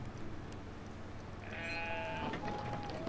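A sheep in the video game Brothers: A Tale of Two Sons gives a single wavering bleat partway through, over a quiet ambient game background.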